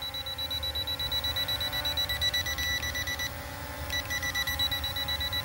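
Obstacle-avoidance sensor on an LF662 drone beeping continuously though no object is near, a rapid high electronic beeping that pauses briefly and resumes, over steady motor hum.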